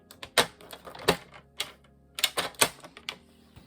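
Scrapbook paper being cut at the 4.1 cm mark, heard as sharp separate clicks and snaps arriving in two clustered bursts amid quiet.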